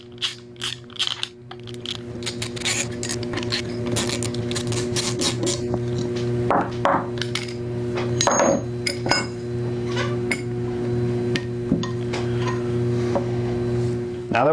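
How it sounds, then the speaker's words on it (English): A T25 ratchet works bolts loose from a SCAR 16/17 rifle's barrel yoke, a steady run of close, clicking pawl ticks with a few sharper metallic knocks, continuous over a faint background hum. "we're going to take our T25 ratchet here and remove both of these bolts"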